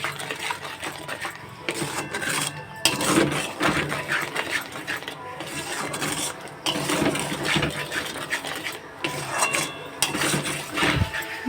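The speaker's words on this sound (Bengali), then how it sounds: "গ্রেভিটাকে ভালো করে কষিয়ে নেব" Chicken gravy is stirred and sautéed in a pan for a chicken fry masala, with irregular scraping and clinking of a utensil against the pan, louder in bursts, over a continuous low background hiss.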